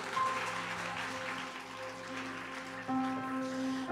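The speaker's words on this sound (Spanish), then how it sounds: "Vamos a recibir con fuertes aplausos al siervo de Dios en esta mañana." A church congregation claps together through a morning service, steady broadband applause holding at moderate level with a sustained musical tone underneath.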